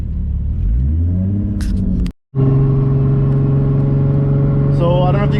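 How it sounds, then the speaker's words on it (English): A 600whp turbocharged G35 coupe accelerates hard on a freeway, its engine note rising loudly, then dropping briefly at a gear shift before climbing again with a steady, strong drone, with a voice over it. "as we merge onto the freeway here, I'll do a little pull"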